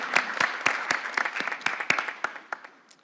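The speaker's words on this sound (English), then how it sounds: "Let's give her a round of applause there." A small audience claps after a workshop presentation, the sparse, distinct claps loud at first and then thinning and fading out.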